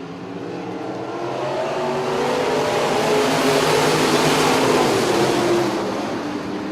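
Street stock race cars roar past on an oval track, a loud, continuous engine drone that swells to a peak and eases off, heard without talk.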